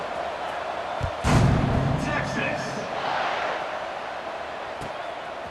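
Stadium crowd in EA Sports College Football 26 roaring at kickoff between Florida International and Texas, a sustained broad swell of cheering that surges after a thud and stays loud under a commentator's voice.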